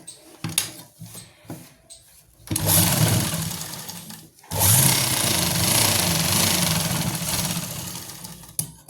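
A sewing machine stitching a narrow salwar runs in two steady, loud bursts of rapid whirring after a few quiet clicks and handling noises, with no talk.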